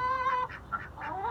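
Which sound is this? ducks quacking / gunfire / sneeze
ducks quacking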